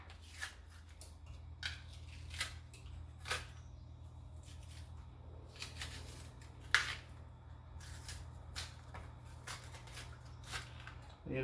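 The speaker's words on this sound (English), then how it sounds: "I'm just peeling this right now." A green plantain is peeled by hand, giving faint, scattered tearing and scraping sounds in short bursts over a low steady hum, close by with no talk.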